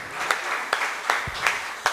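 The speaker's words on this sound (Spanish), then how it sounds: "¿Por qué no le das un fuerte aplauso al Señor, amado hermano?" A church congregation claps in a steady rhythm of sharp beats a bit under half a second apart, set against a continuous wash of crowd applause.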